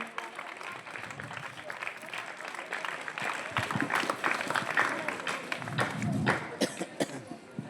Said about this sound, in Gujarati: તો આપણે જોરદાર તાળીઓ સાથે વધાવીએ